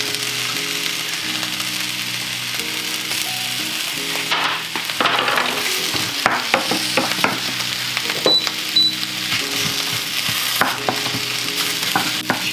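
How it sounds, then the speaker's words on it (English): Carrot and onion stir-fry in a pan for vegan beef and onion noodles, with a steady close sizzle broken by frequent spatula scrapes and clatters. There are no voices. "just stir fry it until the veggies are nearly cooked"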